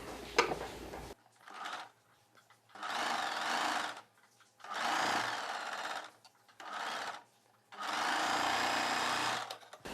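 A sewing machine joins a sleeve onto a cross cut blouse in several bursts of rapid, buzzing stitching, each separated by brief pauses, recorded up close.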